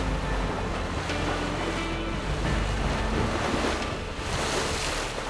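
Sailing at about 15 knots toward Alicante under an offshore wind, with loud continuous wind rush over the microphone and steady surging waves against the hull, with no voices.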